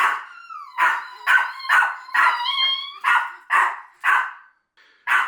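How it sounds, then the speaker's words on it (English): A dog named Polly barking at home in a rapid run of about nine loud, close barks, some drawn out into yelping, whine-like tones, with a short pause near the end before one more bark. "Polly is a bit of a barking aficionado"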